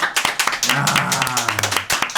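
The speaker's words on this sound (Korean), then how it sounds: "박수 한번 하죠" A small group claps quickly and steadily for a couple of seconds, with a voice speaking under the clapping.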